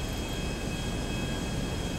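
Steady, broadband engine roar of an airplane in the GTA RP video game, heard close and loud as a constant drone with a faint high whine, unbroken for the whole stretch.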